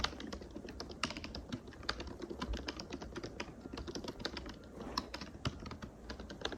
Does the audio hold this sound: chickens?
no